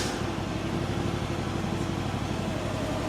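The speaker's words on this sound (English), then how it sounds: "See how far this blade goes down." A Chinese excavator's cold engine runs steadily and close by as its blade lowers, a continuous mid-pitched mechanical rumble with no talking.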